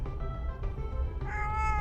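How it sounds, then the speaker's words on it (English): A pet cat named Lucy in the video game Pink Noise gives a short grumbling meow, a drawn-out, slightly rising vocal complaint heard close and alone. "The cat flattens her ears and grumbles."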